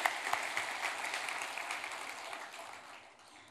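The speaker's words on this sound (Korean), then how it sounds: "우리 힘찬 박수 한번 해주셨으면 좋겠습니다" Church congregation applauding during a Sunday worship service, a dense steady wash of many hands clapping that gradually fades toward the end.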